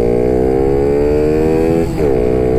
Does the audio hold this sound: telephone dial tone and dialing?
no